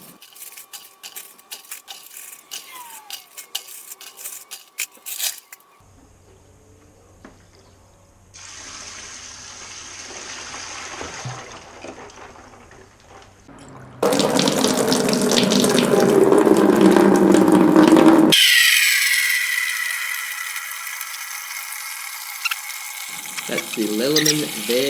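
Water pouring into a container during home brewing of an American pale ale, a steady splashing flow rising and falling across several separate pours of varying loudness, with no talk.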